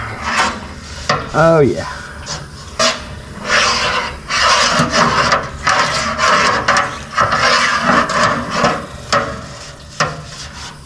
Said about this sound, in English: we are just gonna start at the back, and we are gonna scrape all around in there.